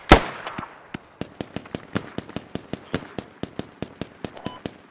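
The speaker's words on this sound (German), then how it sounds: "Richtung uns eine Granate auf der Straße" A grenade bursts with a sharp, loud blast on a street in the military shooter Squad, followed by a rapid rhythmic string of cracking gunshots at mid distance, with no talk.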